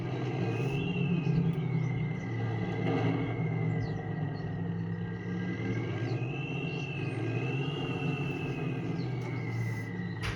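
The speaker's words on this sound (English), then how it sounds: "So as you heard, this truck does sound pretty freaking good." A truck engine in Farming Simulator 25 runs with a steady, continuous rumble and a faint whine riding above it, holding at an even moderate level throughout with no talking.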